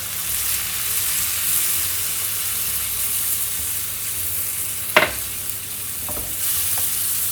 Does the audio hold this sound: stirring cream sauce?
yes